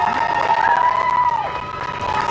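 A small crowd cheers and shouts for NASA astronauts Bob Behnken and Doug Hurley as they walk out, a steady wash of voices and whoops with a whistle-like tone running through it.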